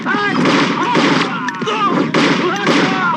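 Gunshots in a film scene: dense, loud bursts of rapid fire that repeat over a few seconds, mixed with voices.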